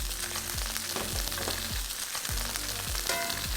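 Garlic sizzling in a hot pan alongside branzino fillets: a close, steady hiss and crackle, with faint clicks and scrapes running through it.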